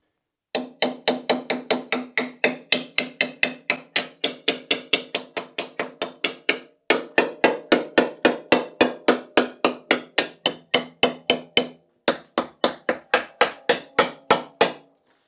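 A hammer strikes the rusty subframe of an Austin Metro car in fast, steady blows, dozens of loud, sharp metallic hits in runs. There are brief pauses near 7 and 12 seconds, close by, with no voices.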